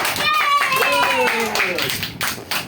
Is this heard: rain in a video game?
no